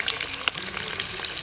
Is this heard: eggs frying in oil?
yes